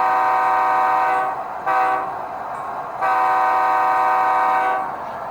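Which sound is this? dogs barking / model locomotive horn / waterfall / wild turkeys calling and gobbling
model locomotive horn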